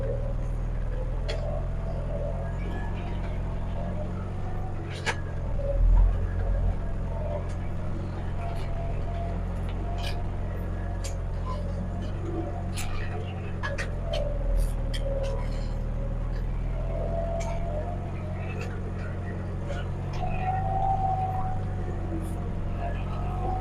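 A small farm tractor with nearly bald tyres, out ploughing, runs with a steady low engine drone throughout, along with occasional knocks and rattles, while voices are faintly present.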